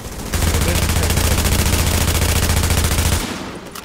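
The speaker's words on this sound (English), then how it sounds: "we still got a guy shooting at us" Enemy gunfire in the video game The Division, in the Dark Zone, comes as a loud, unbroken burst of rapid automatic shots lasting about three seconds before stopping abruptly.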